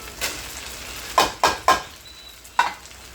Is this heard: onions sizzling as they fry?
yes